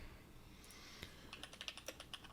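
Computer keyboard typing, faint and close, starting with a couple of isolated key taps and then settling into a steady run of quick keystrokes.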